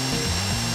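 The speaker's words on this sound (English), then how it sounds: "I'm drilling now." Power drill boring into a bank door during a heist in the video game GTA V, a steady grinding whine with low droning tones, continuous and close for under a second.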